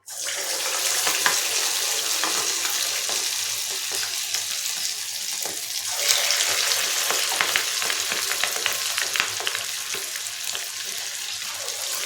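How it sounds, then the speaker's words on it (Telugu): Punugulu, fritters made from idli batter, deep-fry in hot oil over a medium flame, giving a steady, dense sizzle that stays close and fairly quiet, with small pops and crackles throughout. "చూడండి ఇలా వేగినాయి కదా"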